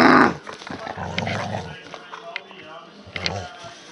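A pet dog growls and snarls while tugging at a toy at home, a close rumbling growl rising in bursts, with a person talking and urging it on over the noise.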